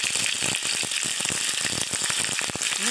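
Dry red chillies and onion sizzle and crackle in hot oil, a dense, steady frying hiss with scattered sharp pops, close and unbroken.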